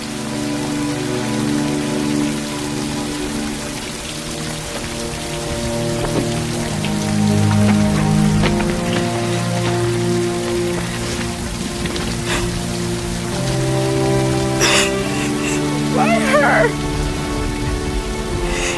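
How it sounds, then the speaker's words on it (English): Steady rainfall patters on surfaces close by, a dense continuous hiss of drops with scattered sharper splashes, mixed under soft music or low tones, no voices heard. "It's the rain. It's the drops."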